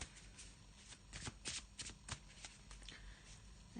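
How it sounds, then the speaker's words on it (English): Tarot cards shuffled by hand in quick riffles, soft crisp flutters repeating close by, quiet, with no talking. "I'm just going to have a little shuffle."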